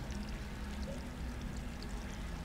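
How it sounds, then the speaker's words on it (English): Water runs from a pail in the video game Stray, a steady pouring rush with a low rumbling undertone, even and continuous throughout, with no speech. "You're running water"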